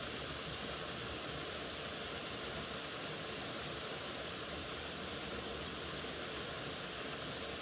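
Water runs slowly over rocks in a quiet stream, a continuous broadband rushing wash that stays even and close, with no voices or other sounds.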